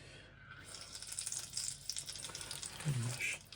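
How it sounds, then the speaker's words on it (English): Homemade potato chips drop into a small deep fryer and start to sizzle and bubble steadily, with a brief rattle of the basket close by in a quiet kitchen. "we'll drop them into my little fryer"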